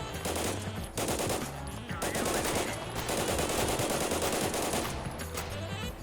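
Rapid automatic weapon fire in a video game, loud and nearly continuous, with sustained bursts packed with dense rattling shots and only brief pauses between strings.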